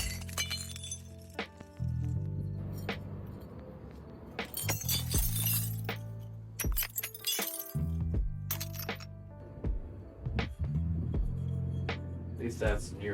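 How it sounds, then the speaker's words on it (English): Glass shatters repeatedly in several sharp, bright crashes and tinkling bursts spread throughout, loud and close, with people talking over a background hum between the breaks. "It's just different glass breaking."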